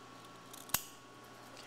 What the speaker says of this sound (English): And then I'm going to take the shorter seam allowance and trim it.